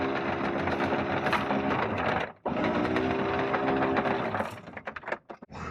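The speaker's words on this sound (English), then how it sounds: "So we've just pulled the anchor back up" An anchor windlass hauls a boat's anchor and chain aboard, a steady loud mechanical whirr with rattling links that runs continuously, breaks off briefly, resumes, then stutters to a stop.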